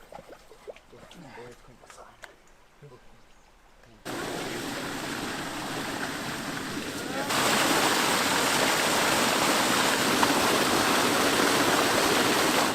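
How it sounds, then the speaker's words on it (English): Water rushes and splashes loudly into a pond, growing heavier partway through into a continuous roaring pour, after a quieter opening with scattered sounds. "There's so much water entering the pond that it'll take several hours for it to empty."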